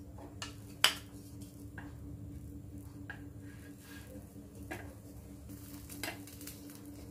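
A chicken sausage sandwich being flipped in a pan: a sharp metallic clink of a utensil against the pan, then a few lighter taps and scrapes over a quiet background hum, close by.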